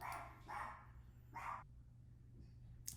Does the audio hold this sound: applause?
no